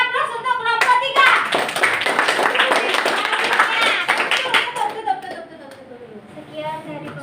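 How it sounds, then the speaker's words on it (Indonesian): A classroom of students claps for group 3, a dense burst of many hands that lasts about five seconds and then dies away. Children and a teacher talk over and after it. "Beri aplaus untuk kelompok 3"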